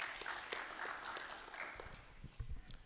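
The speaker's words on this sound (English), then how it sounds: "Let's give him a round of applause." Quiet audience applause at a national cancer summit, a soft steady patter of clapping from a distance in a large hall.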